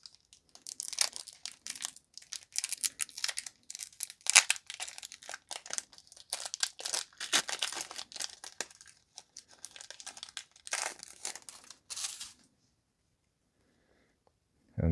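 Crinkling and tearing of a Pokemon Astral Radiance booster pack's foil wrapper being opened by hand, busy and close for about twelve seconds, then silence with a brief rustle at the end.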